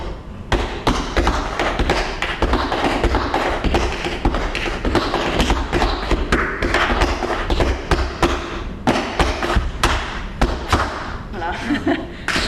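Tap shoes rap out rapid, sharp rhythms on a wooden stage, hollower thuds mixed with crisp toe clicks, continuous and close with brief pauses between phrases.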